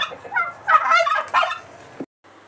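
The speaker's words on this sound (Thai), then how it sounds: "สามตัวนี้เป็นไก่งวงธรรมดานะครับ" Domestic turkeys of an ordinary breed gobbling in a loud, close burst of rapid warbling calls that run for about two seconds, then stop abruptly.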